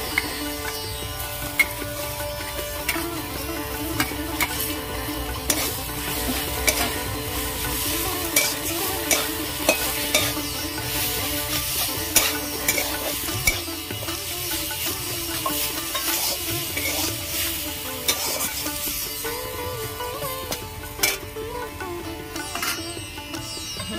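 Grated potato with chilli powder and cumin powder is stirred and fried in a pan, giving a steady sizzle punctuated by frequent scraping and clinking stirring strokes, close and moderately loud throughout.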